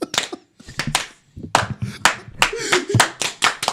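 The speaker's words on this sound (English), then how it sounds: "What a slow clap for that" Slow, deliberate hand clapping, about a dozen sharp claps at an uneven, unhurried pace, close and loud, with people talking between claps.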